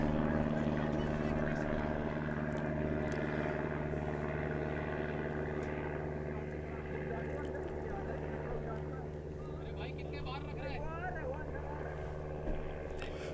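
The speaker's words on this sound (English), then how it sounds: "a plane goes very closely overhead and might be coming through the effects mic" Low propeller aircraft passing close overhead at a cricket ground in Prague, its steady droning engine hum sustained throughout beneath commentary-style talk, easing slightly toward the end.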